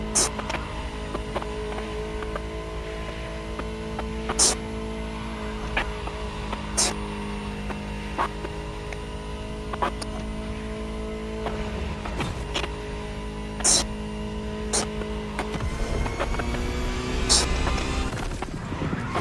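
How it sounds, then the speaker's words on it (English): A Ferrari supercar engine hums at a steady idle in the video game The Crew Motorfest. A voice speaks over the drone and clicking interface sounds break in at intervals. "Just listen to the car you're driving."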